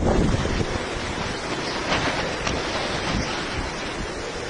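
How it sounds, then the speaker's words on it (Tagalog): Heavy rain and strong wind from Typhoon Paulo lash Divilacan, Isabela, a steady loud roar of downpour and gusts filling the whole stretch without pause. "Halos wala ring santuhin ang kambal na lakas ng ulan at hangin sa Divilacan"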